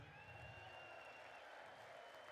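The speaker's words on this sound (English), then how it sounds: "Listen to that applause." Applause at the State of the Union address, a dense, steady wash of clapping from a large crowd, faint and distant, continuing throughout with no speech over it.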